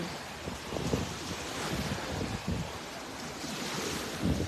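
Sea waves break and wash onto a beach in a continuous roar, with surges every second or so and wind buffeting the microphone throughout.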